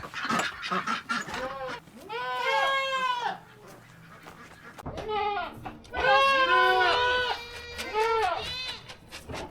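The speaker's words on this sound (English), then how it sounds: "my 2 most skittish goats" Goats bleat repeatedly in loud wavering calls, several overlapping bursts close by, with brief rustling between them.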